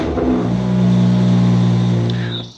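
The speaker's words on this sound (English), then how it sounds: "now is the time where you go ahead and fire your car up" A BMW M-car engine, one of the M2 CS, M3 or M4 fitted with an upgraded fuel pump, fires up and revs, a loud close rumble swelling over the first second, holding steady, then settling and dropping off.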